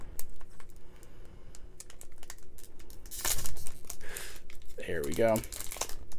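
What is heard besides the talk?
tearing open a Japanese Pokemon trading card booster pack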